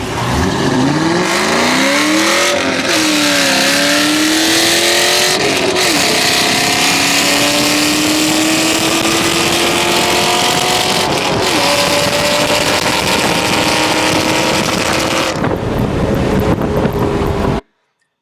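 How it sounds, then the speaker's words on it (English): A 2001 Ford Mustang Bullitt with bolt-on modifications drag races an RS, both engines roaring at full throttle, revving up through the gears in a sustained, loud pass with rising engine pitch. "this is the race against that RS with the Bullitt with just bolt-ons"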